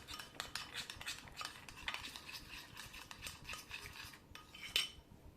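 Clinking of a spoon or spatula stirring an alum face pack in a small bowl, a steady run of close, light scraping taps with a brighter clink near the end.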